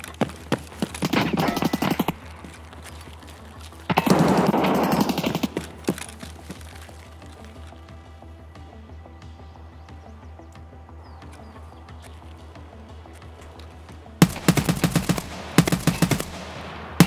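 MDR rifle fire in Escape from Tarkov: loud bursts of rapid automatic shots in three clusters, with a long quieter stretch of low ambient hum between the second and final volleys.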